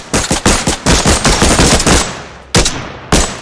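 Rapid automatic gunfire in The Dark Journey, a survival video game set in a snowstorm, with loud close bursts of shots firing in quick succession, a brief pause, then two more sharp bursts.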